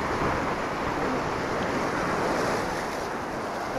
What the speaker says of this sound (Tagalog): Malaki na alon dito.